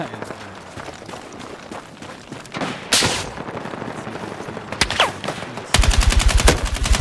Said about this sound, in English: I guess I'll keep shooting the bad guys.